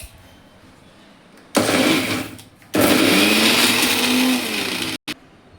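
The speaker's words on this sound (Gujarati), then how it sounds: "એને મિક્સરમાં પીસી લઈશું" A kitchen mixer grinds coriander chutney with four ice cubes in two loud whirring bursts with a brief pause between, the motor pitch shifting as the blades churn, then stopping with a short restart blip.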